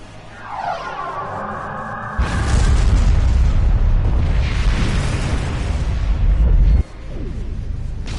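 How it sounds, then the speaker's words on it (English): A rising sci-fi sweep gives way to a heavy, sustained booming blast that rumbles for several seconds, then cuts off abruptly into a lower roar. "Direct hit! Cannons on all decks!"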